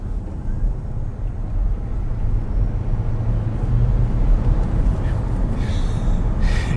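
A Ford Mach-E GT electric car accelerates at full throttle, giving a steady low rumble of road and tire noise with a faint motor whine, while a person speaks over it.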